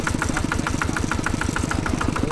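A customized walk-behind tractor engine idles loud and close, with a steady, fast, even chugging beat and a rattling knock throughout, no voices.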